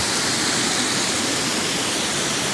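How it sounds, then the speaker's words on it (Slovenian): Waterfalls on the Bistrica stream near Preddvor pour in a loud, steady broadband roar, close and unbroken throughout with no voices. "Evo, koliko slapov ima tukaj."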